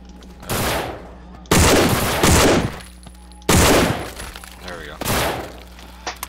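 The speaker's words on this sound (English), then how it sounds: "The machine gun." Bursts of machine gun fire in the zombie shooter No More Room in Hell, loud and close, coming in four separate volleys with gaps between them.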